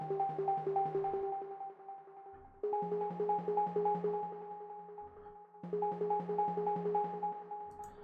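A fast arpeggiated Serum pluck synth in FL Studio plays a rapid, repeating pattern of short bright notes over a low sustained tone, in phrases of about three seconds each.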